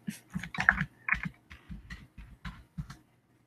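A computer keyboard is typed on in short irregular bursts of close, crisp key clicks, pausing briefly between groups of strokes, with no voice over the tapping.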